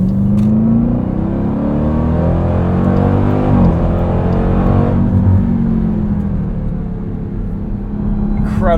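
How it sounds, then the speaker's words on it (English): Inside a 2023 Dodge Durango SRT Hellcat on the move, the loud supercharged engine drones and climbs through the gears, one shift dropping the pitch midway, a steady heavy rumble filling the cabin under faint speech. "It's so crazy to be driving something this loud and this aggressive that has 3 rows."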